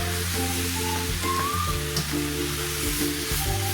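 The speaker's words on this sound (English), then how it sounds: "We're gonna keep turning this over until it's completely seared." Brisket searing in a hot pan, a continuous loud close sizzle with a few soft shifts as the meat is turned, no talking.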